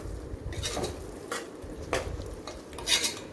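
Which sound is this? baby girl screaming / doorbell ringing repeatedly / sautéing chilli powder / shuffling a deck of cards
sautéing chilli powder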